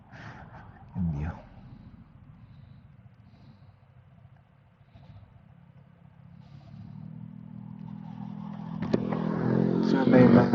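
Vehicles on the road at a Taal Lake viewpoint along Sungay Road, a faint passing engine early, then a motorcycle or car approaching and growing steadily louder toward the end, with some light clatter.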